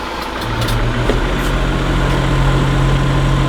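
A van engine idles with a steady low hum and drone, close and continuous, louder than its air suspension compressors, with a few faint clicks early on.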